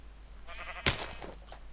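Minecraft sheep bleating near the player's sheep pens, a short wavering bleat followed by a sharper, louder cry, set against a quiet game background.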